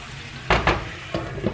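Radishes frying in butter in a lidded pan, stirred, giving a low steady sizzle with a few louder bursts of stirring and pan contact.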